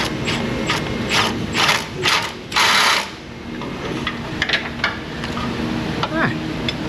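Socket ratchet turning on a car, giving several loud, close bursts of rapid ratcheting clicks separated by short pauses, with some mechanical clatter between them.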